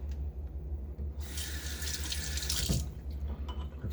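Water runs from a tap into a bowl of shaving soap, a bright splashing stream lasting about two seconds over a steady low hum, starting and stopping abruptly.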